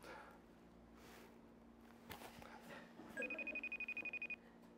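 A mobile phone rings indoors during a conversation, a rapid pulsing electronic ringtone that starts partway through and repeats in quick bursts over a steady room hum, with no talk over it.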